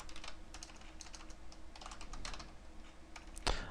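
Rapid typing on a computer keyboard during coding: quiet, close clicky keystrokes in an uneven stream, with a louder clack near the end, and no talking.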